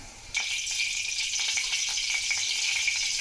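Aubergine bharit frying in hot oil with cumin and mustard seeds, a steady close sizzle that bursts in loudly and holds with light crackling throughout, no voices.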